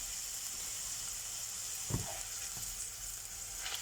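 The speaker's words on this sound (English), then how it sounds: "I'm going to put this fried garlic into the batter, and I'm going to refry it again" Fried garlic coated in batter is refried in hot oil for Kerala fried chicken, giving a steady close sizzle with a brief bubbling burst partway through.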